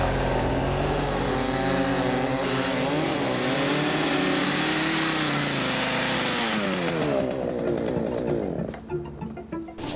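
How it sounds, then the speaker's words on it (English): A car engine revs hard during ice track racing, a loud, continuous drone whose pitch climbs and dips repeatedly before cutting off and fading near the end. "We got behind the wheel for ice track racing."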